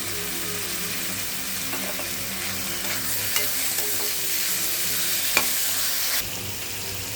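Tomatoes and salt sauté in a pan, a continuous close sizzle with occasional light scrapes and taps of a spatula, no talking.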